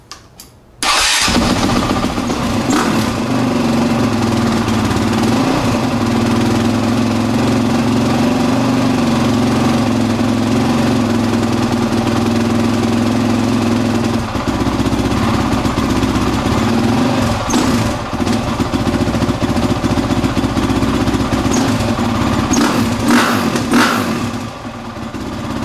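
A Honda XR-type dirt motorcycle, fuel on and choke applied after fitting a spark arrestor and air pump block-off kit, fires up and settles into a loud, steady, close idle that carries on to the end.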